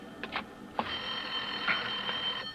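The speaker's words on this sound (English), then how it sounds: "Lorna, there's a phone." An old-fashioned telephone bell rings in a 1948 suspense radio drama, a sustained metallic jangle lasting about two seconds after a couple of short clicks, heard alone without voices.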